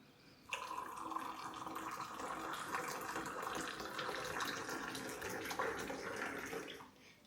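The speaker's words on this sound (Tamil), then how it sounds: "இப்படியே தேயிலை ஜாயத்தை ஊற்றி போட்டு இதுக்குள்ளே ஊற்றுறேன்" Tea decoction being poured into a cup for plain tea without sugar, a steady liquid stream running for about six seconds at moderate level with no talk over it.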